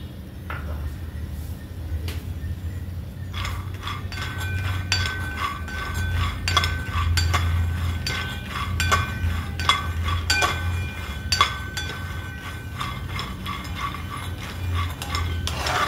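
A spoon scrapes and clinks against a hot kadhai as fresh tur beans are stirred and roasted, with irregular metallic taps and clinks over a low background hum.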